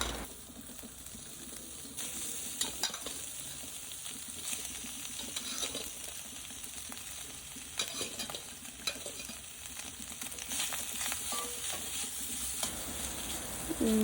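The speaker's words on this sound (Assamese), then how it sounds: "এনেকুৱা চৰ্বি মাংসখিনি গাহৰি মাংসৰ চৰ্বিখিনি দি ল'ব। দি মেলি অলপ দেৰি ভাজি থাকিব।" Pork fat frying in a pan, a continuous crackling sizzle with scraping stir strokes throughout, fairly quiet and with no voices.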